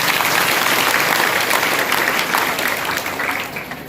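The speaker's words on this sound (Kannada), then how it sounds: "ಜೋರಾದ ಚಪ್ಪಾಳೆ ನಿಮಗೆ." Loud, sustained applause from a large audience at a Dharmasthala rural development trust gathering in Belagavi, a dense wash of clapping that holds steady before easing slightly toward the end.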